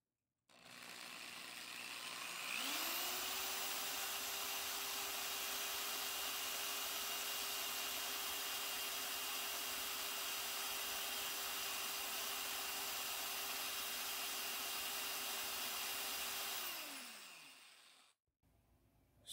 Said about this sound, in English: So now submerge it in water and start drilling.